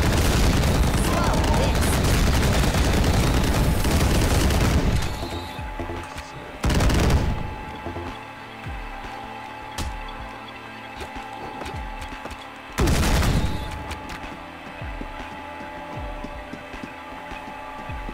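A chain gun fires in the retro shooter Ion Fury, first as a dense, continuous roaring burst for several seconds, then two short loud bursts stand out over a quieter mechanical game backdrop.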